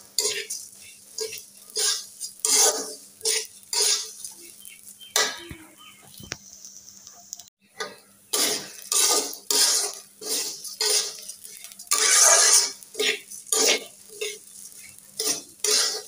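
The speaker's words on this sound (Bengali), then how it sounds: "পোলাও রান্না করবো, চাউল ভেজে নিচ্ছি।" Rice being fried and stirred in a pot for pulao, with a spoon scraping and clinking against the metal in repeated strokes, close and fairly loud, with a brief pause midway.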